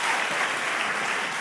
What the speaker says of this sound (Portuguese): Palmas pra irmã, pessoal. Palmas pra irmã.